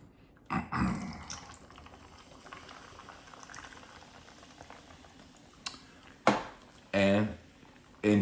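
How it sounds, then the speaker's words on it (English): A celebration drink is poured from a bottle: short liquid glugs and splashes at the start, then a quiet stretch, then a few more pours and clinks close at hand, with no voices. "let's pour us a celebration drink"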